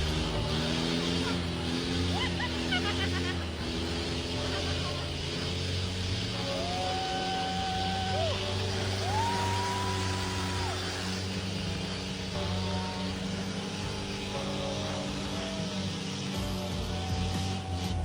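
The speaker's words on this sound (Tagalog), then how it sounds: "Traffic." Dense road traffic drones steadily on a street in Thailand, with engines rumbling close by and a horn-like tone rising and falling in the middle, and a voice comes faintly underneath.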